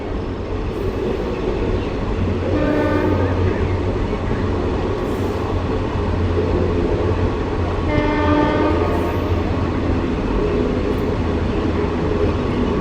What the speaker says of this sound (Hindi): हमारी ट्रेन मोगा से चलने के बाद अपने तीसरे स्टॉपेज जगराऊँ पहुंच चुकी है